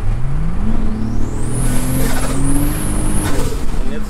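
A turbocharged car accelerates hard through the gears on a test drive, a loud in-cabin engine roar climbing in pitch with a high turbo whine rising, dipping at a shift and rising again.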